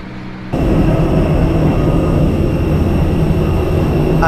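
Airplane engines as the plane prepares to take off, a loud, steady roar that starts abruptly and continues without a break, heard up close from inside the cabin.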